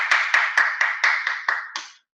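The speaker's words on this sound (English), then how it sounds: "And you deserve a big round of applause." Applause for a business seminar audience: about eight evenly spaced, crisp claps, fairly close and moderately loud, ending abruptly after two seconds.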